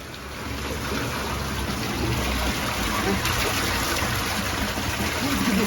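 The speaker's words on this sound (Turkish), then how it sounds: "Burada helva derenin suyuyla arabaları da yıkıyorlar." Stream water flowing steadily at Helvadere in Aksaray, where the creek water is used to wash cars; a constant close broadband rush and gurgle runs through the whole stretch with no talking.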